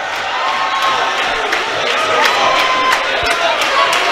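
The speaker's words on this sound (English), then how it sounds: "we start hearing some Misha Nichlas Adar chants coming from the crowd" At a college basketball conference semi-final in a gym, the crowd chants a player's name, a loud, dense roar of many voices with rhythmic pulses and scattered shouts and whoops throughout.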